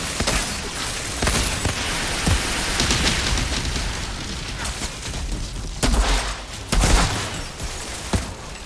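Heavy gunfire in the shooter Outriders, a dense, loud roar of shots and impacts with a few sharper blasts standing out, no talking over it.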